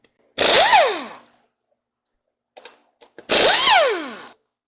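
A Hercules 20V brushless 3/8-inch compact impact wrench spins lug nuts off in reverse, two loud close bursts about a second long that rise and fall in pitch, with faint clicks between them.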